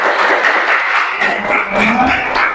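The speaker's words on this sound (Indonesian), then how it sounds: "Kita tepuk tangan dulu untuk kita semua." A group of people clapping together at the close of a floor gymnastics class session, a steady, fairly loud burst of hand claps lasting a few seconds with faint voices mixed in.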